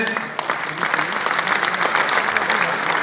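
A crowd at a political gathering applauds Madhya Pradesh Chief Minister Shivraj Singh Chouhan, dense steady clapping filling the space with a faint voice briefly beneath it.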